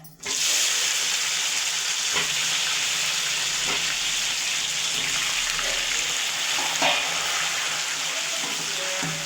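Loud, steady sizzling of tomatoes dropped into hot oil with dried red chillies, starting with a sudden hiss and continuing with crackles and occasional clinks, no voices.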